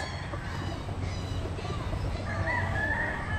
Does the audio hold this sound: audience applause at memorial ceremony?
no